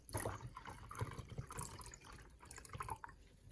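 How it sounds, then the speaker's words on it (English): Water poured from a tap into a container holding sugar, a steady splashing and trickling fill with dripping detail, close and moderately loud throughout. "Place the spoon in a container and add water."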